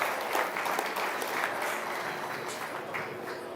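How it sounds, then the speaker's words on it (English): Applause breaks out at a market and breeding goat show at a county fair, a moderately distant crowd clapping in a steady, even patter that carries on throughout. "Let's give that young man a big round of applause."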